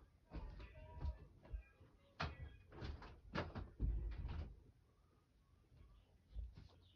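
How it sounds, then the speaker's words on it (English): A door is pushed shut with a few knocks and thuds, nearby, amid shuffling and handling noises in a quiet room. "let me just close the door."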